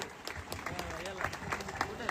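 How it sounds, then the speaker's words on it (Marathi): Scattered crowd clapping at an election rally mixes with someone speaking loudly, as if through a loudspeaker, with the applause fairly thin beneath his voice. "मतदारांना एकदा जोरदार टाळ्या झाला पाहिजेत आपल्या अभिषेक अभिषेकसाठी"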